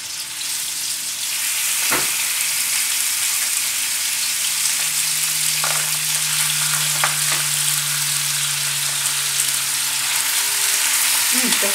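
A pound of organic lean beef sautés in a pan for dumpling filling, a steady bright sizzle with a few sharp utensil clicks and a low hum, no talk.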